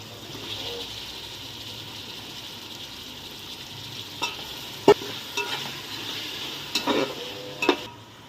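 Cleaned chicken pieces frying in a pan while being stirred: a steady close sizzle runs throughout, broken by a few sharp scraping clicks of the spoon toward the end.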